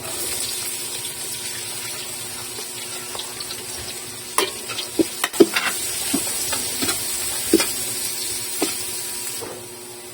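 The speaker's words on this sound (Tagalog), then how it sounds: "Lagayin na natin itong sibuyas." Chopped onion frying in a pan for laing, a steady hiss of oil with scattered crackles and pops growing denser midway, close and fairly quiet with no talking.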